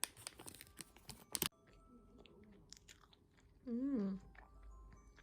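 Injeolmi rice cake balls being chewed close to the mic, with a burst of moist, crunchy bites at first, then quieter mouth sounds and a brief hummed murmur.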